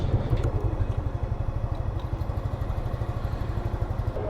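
A brand-new Suzuki Gixxer 155 fuel-injected naked motorcycle idles at a fuel station, its engine thumping in a steady, close, rapid pulse that stays even throughout.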